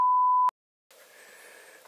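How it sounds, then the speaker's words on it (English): A single steady electronic tone sounds for about half a second and then cuts off sharply, followed after a short silence by a faint hum, in the style of an old Morse code beep. "Yeah, old Morse code."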